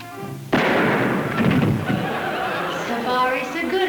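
A loaded fairground gun fires once with a sharp, loud crack. Excited voices, chatter and laughter carry on around it afterward.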